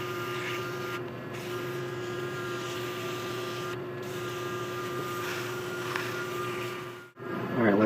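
A turned pen being sanded on a spinning lathe, a steady motor drone with a constant whine and a faint rasp of abrasive, running evenly before a brief dip near the end.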